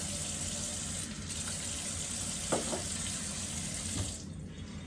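Tap water runs steadily from a home kitchen faucet in Arizona City, a continuous close rushing flow with a faint tap partway through.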